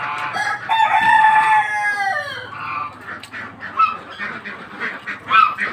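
Ducks on a flooded farm call out loudly in a burst of honking, squawking cries near the start, then scattered quieter quacks and splashy background noise follow.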